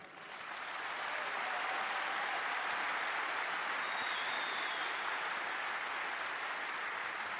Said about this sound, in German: nochmal einen großen Applaus an unsere Class of 22